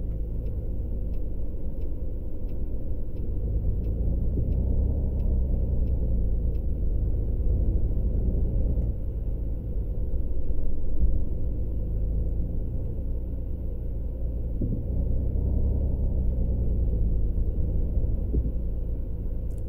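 A bus engine in the Tourist Bus Simulator video game rumbles steadily and low, with gentle rises and falls in pitch as it drives, heard alone without talk.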